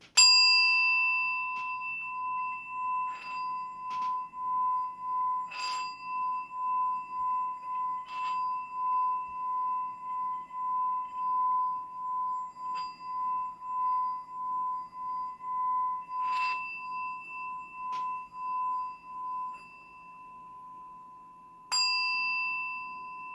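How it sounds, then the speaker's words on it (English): A Tibetan singing bowl is struck, ringing out with a clear sustained tone that pulses in a slow wavering beat, with several more strikes renewing the ring before it fades, then a final sharp strike. "I just wanted to ring the bowl just to kind of clear the space"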